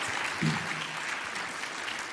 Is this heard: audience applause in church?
yes